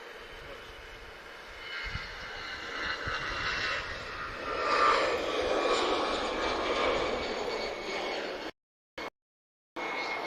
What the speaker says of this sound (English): TAP 448 is on the move. A320, not a Neo.